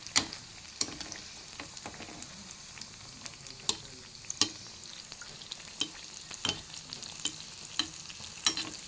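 Malpua batter frying in oil in a pan, with a steady sizzle and frequent small crackling pops running evenly throughout, close and moderately loud, with no voices.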